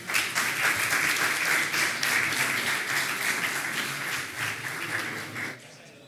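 Conference audience gives a steady, moderately loud round of applause that holds for about five seconds and then stops abruptly, with faint voices underneath.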